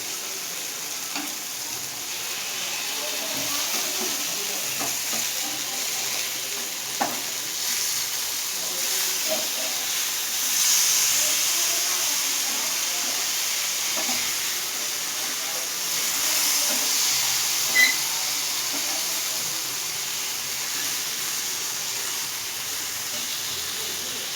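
Barramundi fish frying in oil in a pan, a steady broad sizzle and hiss running throughout with occasional soft pops and small spatters, moderately close and continuous.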